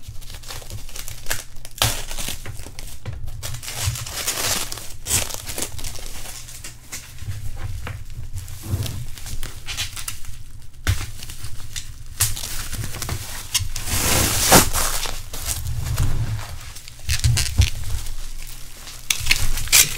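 Graded card slabs in plastic packaging being unwrapped, a continuous close crinkling and crumpling of plastic with occasional sharper tearing rustles, steady and fairly loud with no voice.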